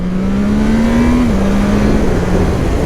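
A Triumph Trident 660 motorcycle engine drones at a steady, loud, close pitch that dips slightly partway through, with wind noise over the ride.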